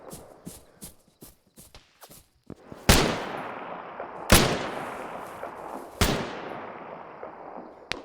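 Rifle fire in the military game ArmA 3: several sharp close shots, each with a long rolling echo trailing off, preceded by a run of lighter clicks and knocks.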